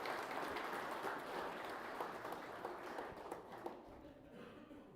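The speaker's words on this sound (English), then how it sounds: "if you still want to give them a round of applause" An audience at a high school conference fall sports awards ceremony applauds in a steady, moderately loud patter that gradually thins out and fades over a few seconds.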